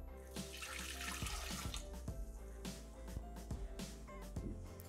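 Water poured steadily into a Thermomix (Bimby) mixing bowl while making seven-grain pizza dough, a continuous splashing trickle with small knocks and clinks, close and clear, with no talking.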